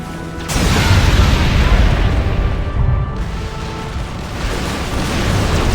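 Loud, dense rumbling booms of bombs exploding in the Xbox 360 game Halo Wars. One heavy blast hits at the start and then rolls on as a sustained roar.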